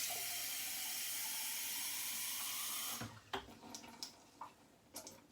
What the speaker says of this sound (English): So I just added some cold water.